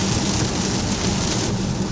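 Rain falls steadily on a Tesla Model Y while driving, a dense, loud, continuous patter and hiss over a low road rumble, unbroken for the whole moment with no voices.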